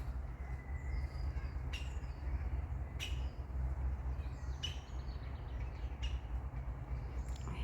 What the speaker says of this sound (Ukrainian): Федя з Фросією розпищалися, наче не бачила ніколи зеленого дятла.